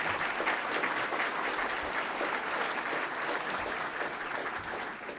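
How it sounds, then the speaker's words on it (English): Sustained, dense audience applause fills a Columbus Metropolitan Club forum hall on the downtown Columbus strategic plan, steady and loud throughout before easing slightly at the end, with no talk over it. "Let's have another round of applause for them."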